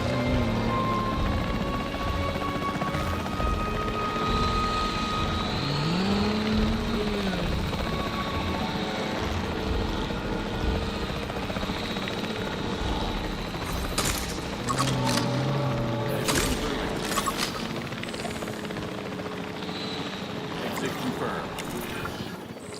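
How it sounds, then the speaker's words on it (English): A capture team helicopter in Jurassic World Evolution 3 thrums steadily with rotor and engine noise, loud and continuous throughout, with game effects and voices layered on top. "The priority needs to be tranquilizing it with the capture team chopper."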